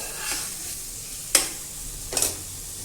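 Onion sautés in a pan for potato bhaji, a faint low sizzle beneath two sharp spatula scrapes, one near the middle and one toward the end, with no talking.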